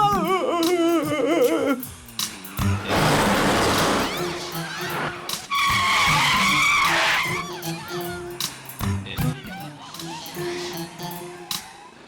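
Tyres screech as a car skids in a chase scene, with sustained squeals in two long bursts between bursts of engine noise and music, and voices shouting over parts of it.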